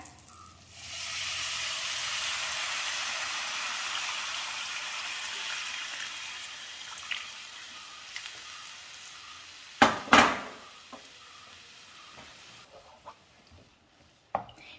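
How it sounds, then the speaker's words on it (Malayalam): Tamarind water poured onto frying green chillies for a chilli pickle erupts in a loud, steamy sizzle that slowly fades to a gentle simmering hiss, broken by a couple of sharp clatters near the end. "ഇതിലേക്ക് പുളിവെള്ളം ചേർക്കാം."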